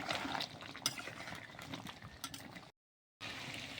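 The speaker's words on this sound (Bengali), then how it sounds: "দিয়ে দেবো কেটে ধুয়ে রাখা কয়েক ফালি আলু, দিয়ে ভালোভাবে কষিয়ে নেব।" Beef and potato pieces being stir-fried in a pan for a Bengali beef curry give a quiet bubbling sizzle with scraping stirs and utensil clinks, broken by a brief silent gap.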